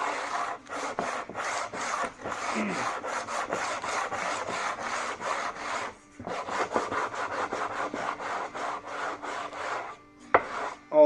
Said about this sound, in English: I'm going to give it a few more passes with the 100 grit.